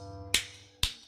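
Two sharp, loud slaps about half a second apart, each a single crisp crack that fades quickly over a low background hum, struck during a heated domestic quarrel between a husband and wife.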